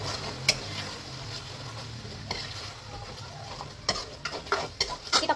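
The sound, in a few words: stirring pasta sauce ingredients in a frying pan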